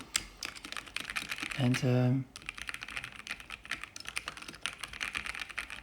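Fast typing on an old Corsair K70 mechanical keyboard, modified with a detachable cable, produces a steady, close patter of key clicks that stops briefly for a low humming tone, then resumes; a voice says a single word.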